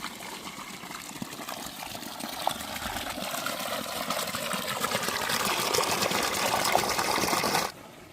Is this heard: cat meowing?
no